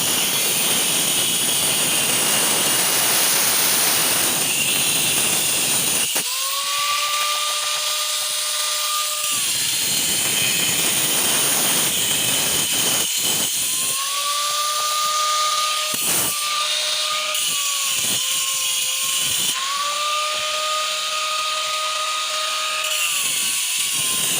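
A power tool grinds and smooths the face of a natural stone mortar (cobek), with loud steady abrasive noise and several whining tool runs that start and stop through the clip.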